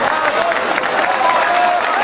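A pool match audience applauds a long run of play, a brief burst of steady clapping and murmuring crowd noise lasting a couple of seconds.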